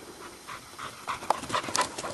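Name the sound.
dog panting heavily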